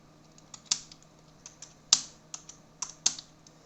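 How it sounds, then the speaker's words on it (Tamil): Tamil text tapped out on a computer keyboard: a dozen or so crisp, close key clicks in an irregular rhythm, a few louder strikes among softer ones, over quiet background hum. "நான் கீபோர்ட்லேயே டைப் பண்ணுறேன் பாருங்கள்"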